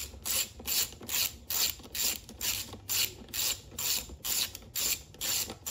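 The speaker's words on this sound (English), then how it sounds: "what we're going to do here is start removing the nuts on the air clean box" A ratchet wrench clicks in steady repeated bursts while removing the nuts from the air cleaner box of a Honda EU1000i generator, close up and fairly quiet, about two strokes per second with no talk.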